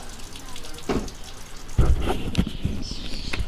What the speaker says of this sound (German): Bevor wir jetzt weiter an die Küste fahren, lassen wir noch schnell das Grauwasser ab und befüllen den Frischwassertank.